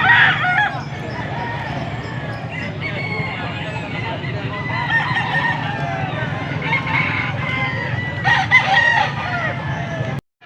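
Roosters crow repeatedly at a fowl market in Angeles City, Pampanga, over a busy, noisy background of clucking fowl and murmuring voices, the calls overlapping at moderate distance.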